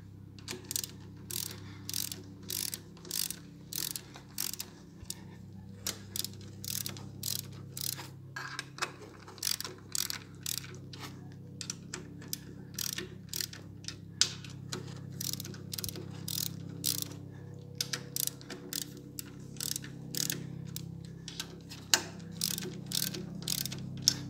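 A ratchet torque wrench tightens lid bolts gradually in a crosswise pattern, producing repeated bursts of crisp close clicking with short pauses between strokes over a low background hum.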